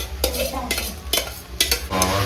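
Pulao is stirred and mixed in a pan: repeated scraping strokes of a spoon over a low sizzle, close and rhythmic, with no talking.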